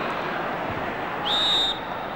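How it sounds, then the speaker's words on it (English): A referee's whistle in a 1975 FA Cup Final football match between West Ham United and Fulham, one short shrill blast of about half a second rising over a steady stadium crowd roar. "The whistle's gone."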